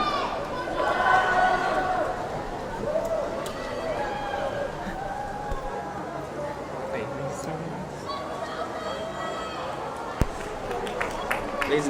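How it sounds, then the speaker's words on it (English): Broad crowd murmur and chatter fill an indoor college swim meet, a steady mid-level hubbub of voices with scattered shouts and one sharp knock near the end. "you can obviously hear and feel the attention that we're getting right now from the crowd"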